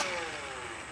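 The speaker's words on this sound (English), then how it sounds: "That is revving the flywheels, and then you pull it again to fire." Buzz Bee Cyclonic foam blaster flywheels spin up in a brief, faint whirring hum with a slightly rising pitch, heard alone.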